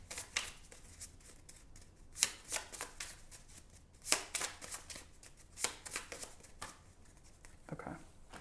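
Tarot cards are shuffled and drawn by hand, giving soft papery riffles and sharp snaps in irregular bursts, close and quiet.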